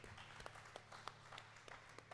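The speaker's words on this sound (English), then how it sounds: "I'm sorry they gave you such a weak hand clap" A church audience gives a weak, scattered hand clap, faint and thin, with a few isolated claps over a low hum.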